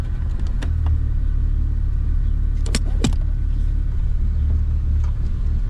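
A 1987 Jeep Cherokee running in two-wheel drive after a driveshaft replacement gives a steady, loud low rumble from inside the vehicle, with a few sharp clicks and knocks over it and no speech.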